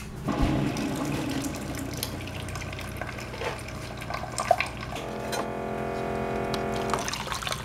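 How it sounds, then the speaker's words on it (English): Water runs from a household tap, a steady trickling and splashing that shifts in pitch as the vessel fills, with faint clinks and background hum. "Add more water."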